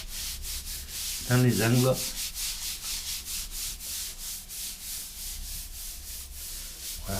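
Tile grout joints are rubbed and shaped by hand with a steady, rhythmic gritty scraping strokes, close and continuous, with a short spoken phrase early on.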